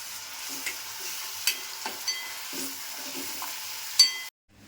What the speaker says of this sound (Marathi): ते छान आपल्याला असं परतून घ्यायचं तेल सुटेपर्यंत